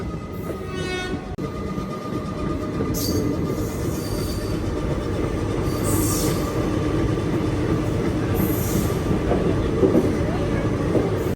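The Tirupati to Puri Express rolls on after pulling out of Nellore, heard from inside the train. A loud, steady rumble carries rhythmic wheel clatter, with a few brief high squeals or horn notes rising over it.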